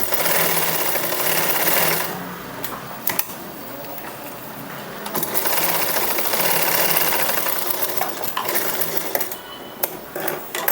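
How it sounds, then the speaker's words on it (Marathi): An electric sewing machine stitching tucks into blouse fabric, running in loud rapid bursts with short pauses and clicks between runs, close up. "इथं सगळ्यात अगोदर इथे बघा अशा प्रकारे एक शिलाई मारून घ्यायची"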